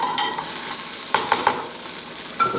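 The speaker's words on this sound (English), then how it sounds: "All right, so we're ready to flip this burger again." A burger sizzling in a pan is flipped, with a steady frying hiss throughout and a few quick scraping spatula knocks in the middle, close up and with no talk.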